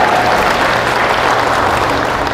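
Sustained applause from a church congregation during a sermon in Tagaytay City, a dense, steady wash of many hands clapping together, fairly loud and continuous, with no talk over it.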